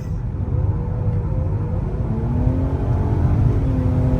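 A car engine revs steadily with a rough, rumbling note from an exhaust damaged by hitting a deer, sustained and fairly loud throughout with no talk.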